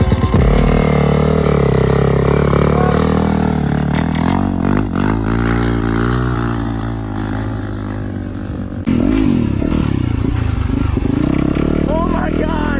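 A dirt bike with dual front wheels rides through sand dunes, its engine loud and close, droning and revving continuously with shifts in pitch while a rider speaks over it.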